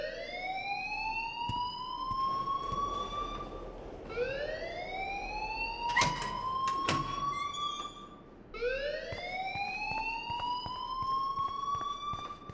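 A game alarm in Life Is Strange wails in three long rising sweeps, loud and close, with a few sharp clicks and bangs in the middle and no talk over it.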